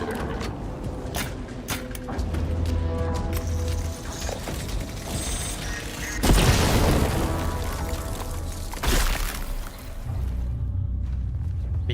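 A gun in the game Shadows of the Damned fires with heavy booming blasts amid mechanical clanks and ratcheting reload noises, loud and close, with two big bursts standing out over a busy game soundscape.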